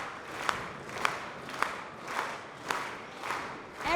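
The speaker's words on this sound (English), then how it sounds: "Everybody clap like this." Convocation audience clapping together in slow unison, a regular pulse of about two claps per second over a low crowd murmur, moderately distant.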